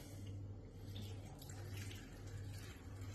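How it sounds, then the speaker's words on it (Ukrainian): Water streams steadily into an Afghan kazan holding meat, potatoes and vegetables, half a litre poured in, a continuous rushing pour with a low hum underneath and no talking. "Треба залити тут у нас пів літри води."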